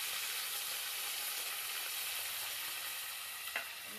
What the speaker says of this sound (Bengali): মশলাটা ভেজে নিই।